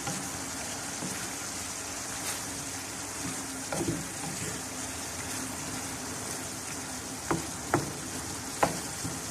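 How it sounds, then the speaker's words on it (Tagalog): Bitter gourd and chicken liver frying in a pan, a steady sizzle with a few sharp clicks of a utensil stirring near the end. "Yan, haluin na natin."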